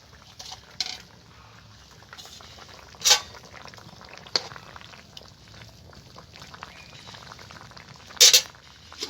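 Shol fish going into a simmering green banana curry: a steady low bubbling of the pot, with a couple of sharp wet splashes and clinks of a utensil against the pan.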